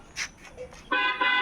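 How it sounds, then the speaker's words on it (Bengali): A toddler's toy car horn toots a few times: brief faint beeps, then two louder sustained electronic honks close by. "একবার হর্ন বাজাও শুনি"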